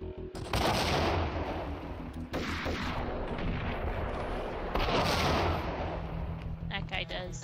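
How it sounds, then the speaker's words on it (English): Grenade explosions and gunfire in the Max Payne video game, heavy booms and rapid shots in dense, loud bursts that fill the stretch, with a voice speaking briefly at times. "Lots of grenades."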